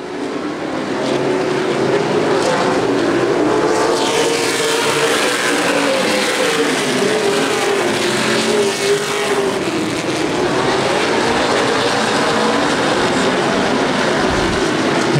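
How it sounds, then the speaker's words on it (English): Race cars in a CRA Super Series event at Anderson Speedway roar around the short oval under green flag racing, a loud continuous engine drone with passing cars rising and falling in pitch. "green flag racing here at lap 245 of the Seal Wrap Redbud 300"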